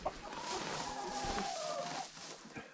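Buff Orpington hens cluck softly together with a rooster among them on a farm, giving a few drawn-out calls and murmurs at a modest distance.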